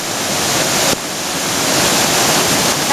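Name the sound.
floodwater rushing during Hurricane Irene flooding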